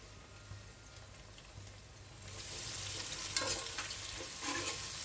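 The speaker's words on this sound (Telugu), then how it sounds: "పుదీనా అయితే వేస్తున్నాను." Mint leaves, added with ginger-garlic paste, frying in a pan for chicken biryani; a soft hiss that swells into steady sizzling after a couple of seconds, with occasional scraping stirs and no talk.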